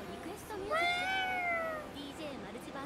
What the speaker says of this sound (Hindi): Is that a cat? Technically it's a yokai.